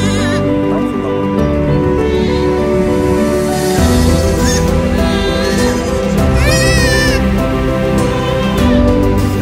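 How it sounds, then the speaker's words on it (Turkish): Pet dwarf goats kept at home bleating, several wavering, quavering calls close by over a dense, continuous background with other sounds. "Bir avuç keçi görüyorsunuz şu an."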